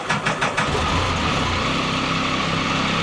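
A Can-Am Spyder three-wheeled motorcycle engine starts and settles into a loud, steady idle close by, with a few sharp bursts at the start before the running note holds evenly.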